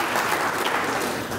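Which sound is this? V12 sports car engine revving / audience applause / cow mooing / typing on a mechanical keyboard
audience applause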